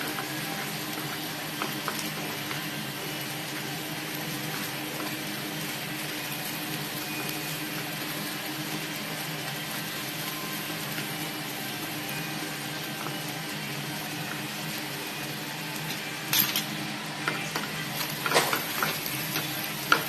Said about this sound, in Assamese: পিঁয়াজখিনি অলপ ৰঙা হৈ গ'ল আৰু আদা আৰু নহৰুখিনিও ভালকৈ ভাজি ল'লোঁ।